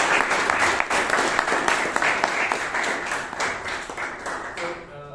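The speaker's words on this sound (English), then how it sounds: "please give our president a big round of applause" A Toastmasters club meeting in Bangalore breaks into a big round of applause for the club president: dense, steady clapping from a room of people that thins out toward the end as a voice begins.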